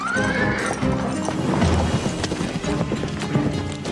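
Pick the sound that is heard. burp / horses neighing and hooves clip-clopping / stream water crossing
horses neighing and hooves clip-clopping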